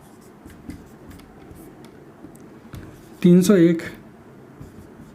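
Writing on a board during a maths lesson makes faint, close scratching strokes and taps, with a teacher's voice speaking over part of it.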